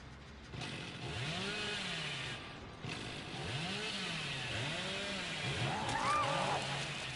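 A chainsaw revs repeatedly in Dead by Daylight, cyclic rising and falling engine whines over game ambience, loud and continuous.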